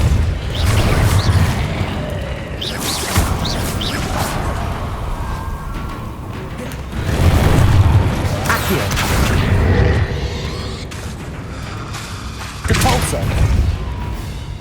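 Combat spells in the Hogwarts Legacy video game, Confringo and Depulso blasts, land as a string of booming thuds and whooshing bursts over a steady rumbling game backdrop, with several heavier impacts standing out close and loud.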